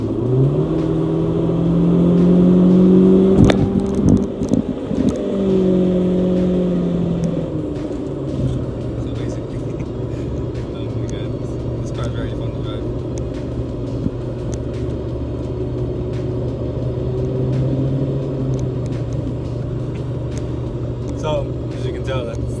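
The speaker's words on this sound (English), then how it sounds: "let me switch to sport mode, and let me just show you the acceleration" A 2016 Honda Civic with a base-model engine accelerates in sport mode. Engine revs climb over the first few seconds, then settle into a steady rumble and whir heard from inside the cabin.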